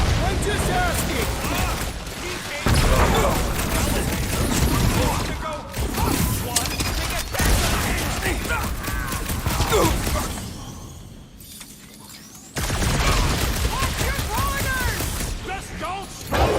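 Dense, continuous gunfire in the Guardians of the Galaxy video game, loud rapid bursts and mechanical clatter with a short lull partway, mixed with characters shouting over it.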